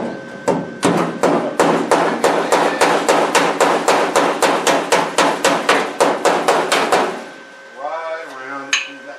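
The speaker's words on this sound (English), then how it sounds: "I'm going to take my body hammer and just grab a dolly" A body hammer strikes metal against a dolly on a car's rear fender, about twenty loud, ringing, evenly spaced blows close up, ending in a few softer taps after a short pause.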